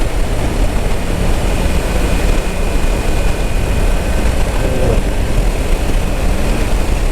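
A Moto Guzzi V9 Bobber motorcycle is ridden through a turn. A loud, steady engine drone blends with a heavy rush of wind that stays close and unbroken throughout, with no talking.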